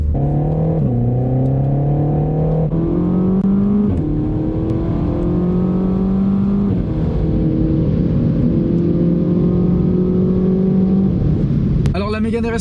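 Renault Mégane R.S. Trophy with a 300 hp 1.8-litre TCe turbocharged four-cylinder, driven with a loud, steady engine drone that climbs and drops in pitch through several gear changes, ending in a brief burst of another sound.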